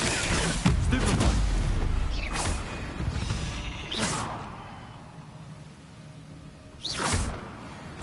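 Spell casts in a Harry Potter-style video game, heard as several sharp whooshing bursts with booming impacts at intervals over a low rumbling background.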